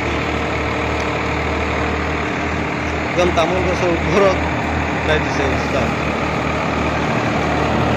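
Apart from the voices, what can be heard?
Sonalika Tiger tractor engine idling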